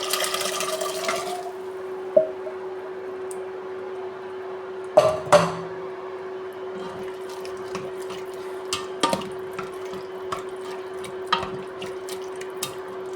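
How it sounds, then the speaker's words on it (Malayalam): Cooked black chickpeas and Chinese potato are tipped into a pan of masala and mixed. Scattered clunks and wet scrapes of a spoon against the pan sound close and intermittent over a low steady hum, with no talking. "ഇതിനകത്തേക്ക് നമുക്ക് കടയിലെയും കൂർക്കയും വേവിച്ച് വെച്ചത് ഇട്ടുകൊടുക്കാം"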